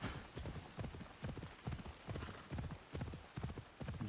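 Horse hooves galloping in the game Assassin's Creed Odyssey, a quick rhythmic clip-clop of repeated footfalls, steady and fairly quiet.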